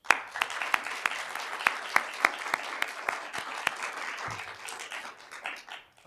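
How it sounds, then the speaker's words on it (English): Audience applause at the final round of a moot court competition, moderate, steady clapping with a few sharp, prominent individual claps standing out near the mic, gradually thinning toward the end. "they deserve a round of applause"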